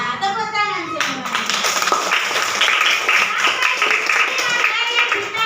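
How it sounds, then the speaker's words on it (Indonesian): Children in an Indonesian primary classroom break into brisk hand clapping that builds into dense applause and continues for several seconds, with a teacher's voice speaking just before it starts. "Tepuk tangan semua."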